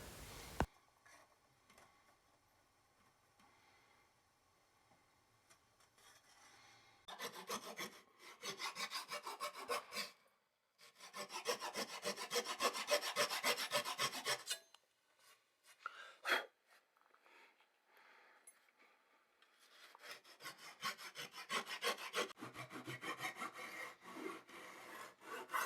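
A hand saw cuts a slot in wood along a jig while building a small garage workbench, heard as bursts of rhythmic rasping strokes separated by quiet pauses, close and clear.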